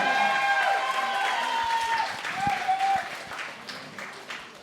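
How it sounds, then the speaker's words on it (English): Audience applause for a photographer at a gathering, moderate clapping from a crowd with tonal whistles or voices early on, gradually thinning and fading toward the end. "Let's give us A lot of applause here."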